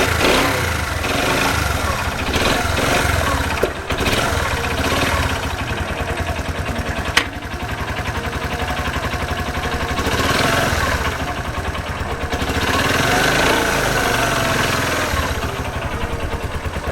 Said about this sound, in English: engine's totally cold. Let's see if it's going to start first time.